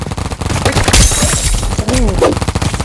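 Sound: gunfire in Roblox Big Paintball 2 video game

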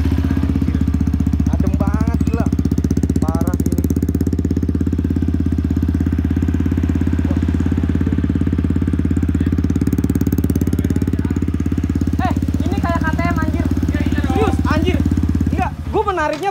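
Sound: Yamaha WR 155 supermoto motorcycle engine and exhaust

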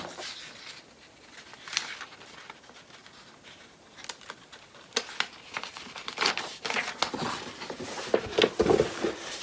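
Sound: taping a paper pattern dart together

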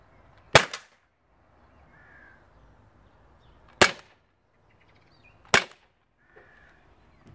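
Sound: gas-powered pellet air gun firing

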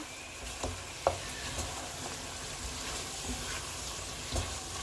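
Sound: beef with chui jhal being slowly stir-fried in a pan

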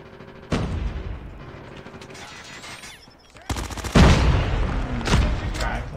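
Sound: MX9 gunfire in video game Call of Duty Mobile

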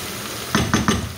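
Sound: sizzling of vegetables and fat frying in a pan

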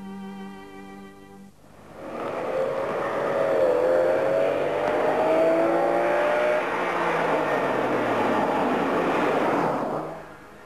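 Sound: Ferrari 456M sports car driven hard on back roads

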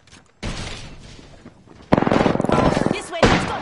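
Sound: gunfire in a video game (Apex)

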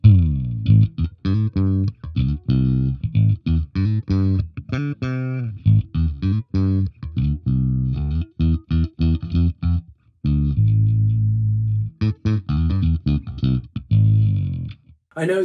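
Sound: passive bass guitar, tone knob full

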